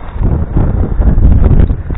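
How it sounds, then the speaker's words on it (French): Heavy, steady wind buffeting the microphone while bass fishing, a constant low roaring rumble with no voices. "Là, il y a beaucoup de vent."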